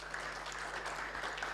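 A church congregation at a live evangelistic service claps faintly and continuously, distant and steady throughout the short stretch.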